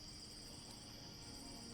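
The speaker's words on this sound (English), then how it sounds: "Listen as leaves shudder and crickets chirp around you." Crickets chirp in a steady, continuous high trill at night, faint and even throughout, over a soft background hiss with no other clear sounds.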